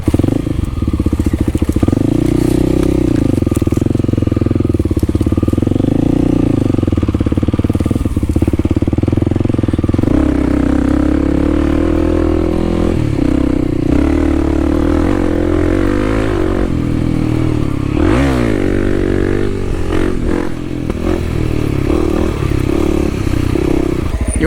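Kawasaki KLX300 dirt bike on a trail ride, engine droning loud and close throughout with rising and falling revs, gear changes and clattering over rough ground.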